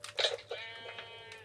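Sheep bleating in the Minecraft video game, a couple of short wavering bleats close up, standing alone with no talk over them.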